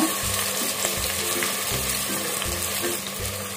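Ground ginger-garlic paste fries in a hot pan for a Tamil-style donne biryani, giving a loud, even sizzle close by with faint low clinks of stirring running throughout.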